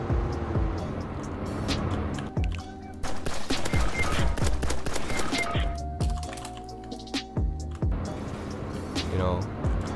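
Bursts of rapid gunfire from the Roblox game New Haven County crackle in clusters of shots, heard under a player talking over the game sounds.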